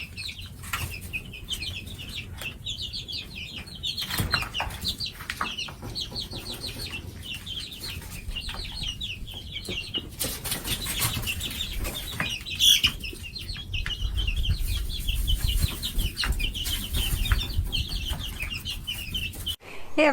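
Backyard hens clucking and chirping steadily at close range in an opened coop and run, with bursts of wing flapping and scratching throughout and brief busy noises mixed in.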